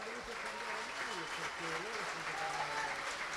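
Stadium crowd applauding the two coaches of Spezia and Sampdoria as they take their benches at a preseason trophy match, a soft, distant wash of clapping under a commentator's voice.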